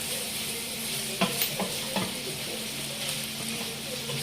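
Food being stirred in a sizzling frying pan while cooking Ilocano sinanglao, with a steady frying hiss and a few soft clacks of a utensil against the pan partway through.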